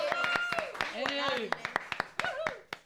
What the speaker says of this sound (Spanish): Aplauso, por favor, para mis compañeros.